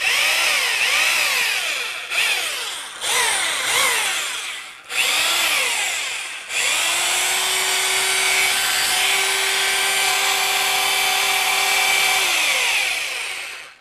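A Deko DKRH20B50 rotary hammer drill, rated for 20 mm bits, whines at high speed with no load, briefly dropping off and spinning back up a few times before holding a steady pitch and then cutting out, loud and close.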